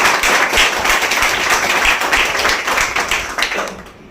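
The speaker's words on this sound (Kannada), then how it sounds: "ಅವರಿಗೆ ಒಂದು ಬರಲಿ ಚಪ್ಪಾಳೆ" A crowd claps steadily and loudly for a Lions Club service program at the Mangaluru district jail, with dense, continuous applause that tapers off at the end.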